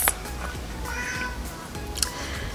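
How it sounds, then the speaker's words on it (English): A house cat meows twice, short and fairly near, with a quiet room hush between the calls. "That's my cat."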